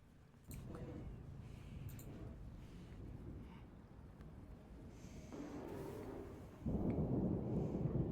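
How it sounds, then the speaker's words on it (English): A rumbling thunderstorm sound effect plays during a tabletop role-playing session, a low continuous roll that swells into a louder crash near the end, with a voice speaking over it. "A storm?"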